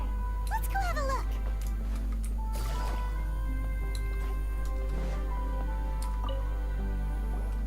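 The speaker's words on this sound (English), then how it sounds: "Sounds like a water droplet is on the second floor." Water droplets drip during an in-game event, with soft plinking drops and small squishy ticks over a constant low hum, while a voice talks lightly over part of it.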